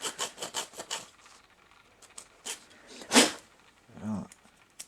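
Plastic wheel well liner on a Honda Civic Si being cut and ground, heard as a run of short rasping bursts, a sharp louder scrape near the middle, then a low thud, fairly close and without talk.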